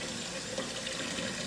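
Tap water runs steadily into a sink while natural hair is rinsed of soap, a close, even splashing stream with no talk.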